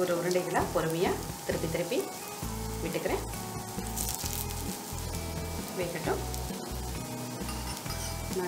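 Bonda batter fries in a little oil in a paniyaram pan, giving a soft, continuous sizzle close by, with occasional clinks of utensils and a voice talking over it.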